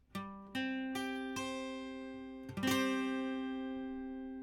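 Guitar notes picked one at a time in an even rhythm, then a strummed chord that rings out and fades slowly.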